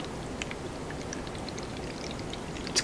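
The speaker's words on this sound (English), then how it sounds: "Pouring the water in." Water poured into a container of soil with plants, a soft, steady trickling hiss that runs evenly throughout at low volume, with a faint splash near the end.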